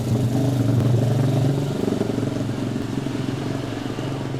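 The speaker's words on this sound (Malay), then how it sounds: "Motor kayak gini bising di Singapura." A loud motorcycle engine on a street in Singapore, running steadily and close by with a continuous low rumble and some clatter throughout, no talk over it.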